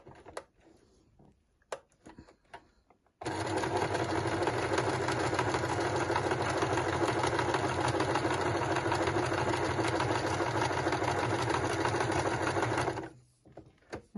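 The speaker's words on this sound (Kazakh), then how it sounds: "Қазір мен сіздерге мына зигзаг түрін тігіп көрсеттім." A household sewing machine runs a continuous zigzag seam, a loud, steady mechanical whir lasting about ten seconds, preceded by a few light clicks and taps and ending with the motor winding down.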